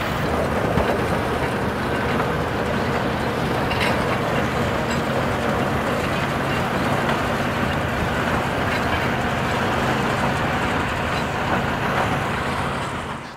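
During the beet harvest, the machine pours sugar beets into a waiting truck. The engine growls loud and constant, with a broad clattering wash of noise that stays even throughout and fades slightly at the very end.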